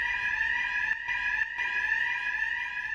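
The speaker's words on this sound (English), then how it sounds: "The emergency alarms are tested weekly, however, they will only sound for a short duration." A loud, continuous electronic fire alarm tone blares steadily, with a couple of brief dips, no voices.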